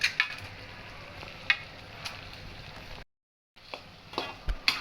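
Glutinous rice for kuih wajik being stirred and mixed in a pan, giving a soft scraping and faint sizzle with a few sharp clicks of the spoon, cut off briefly by a gap of silence before resuming.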